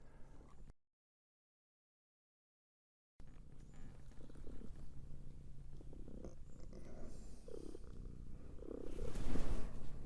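A domestic cat purrs close by outdoors near a prairie patch, a low continuous rumbling drone after a brief gap of silence, with soft rustles and a louder swell near the end.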